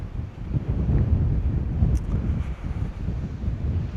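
Steady wind on a beach buffets the microphone at low tide, a constant rough rumble with no voices.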